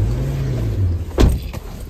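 A car engine idles steadily with a low rumble close by, and a brief whooshing sweep and a faint knock pass over it near the end.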